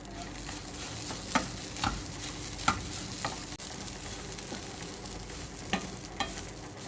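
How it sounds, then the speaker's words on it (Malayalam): Fennel seeds and curry leaves roasting in a pan for chicken curry with roasted coconut, a steady low sizzle with repeated light scrapes and clinks of stirring, close and quiet. "ഇത്രയും ഇട്ട് നമ്മൾ ഇത് വറുത്തെടുക്കാൻ പോവുകയാണ്"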